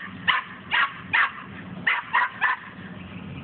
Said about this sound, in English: He's just barking at my dad.